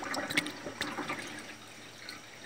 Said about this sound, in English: pull the plug, there it goes.